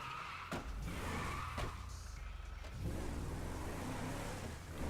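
A car in the video game GTA V drives and skids, its engine droning steadily under a few sharp tire-screech bursts and scrapes, fairly loud and close, with no talking.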